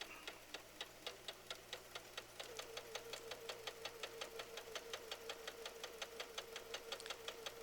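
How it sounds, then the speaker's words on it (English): A sewing machine runs steadily, chain-stitching through fabric with a rapid, even mechanical ticking that continues throughout at close range, with no talk. "Now you can stop sewing at the end of that piece or go to the end so you can chain sew"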